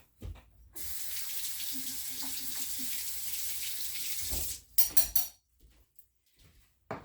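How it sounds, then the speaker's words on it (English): A spoon is rinsed under a running kitchen tap while apple butter is being made: a steady gush of water for about four seconds, then a few close clinks and knocks of metal. "I am going to wash my spoon for you guys."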